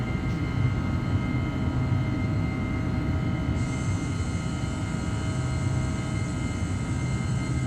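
A steady, loud jet engine roar from an Airbus A318 departing Bilbao and climbing in Microsoft Flight Simulator 2020, holding constant throughout with an extra high-pitched whine joining midway.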